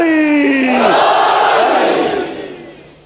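A majlis crowd roars the religious slogan Nara-e-Haidari in response to a lead call: one loud voice sweeping downward, then a massed shout that swells and trails off.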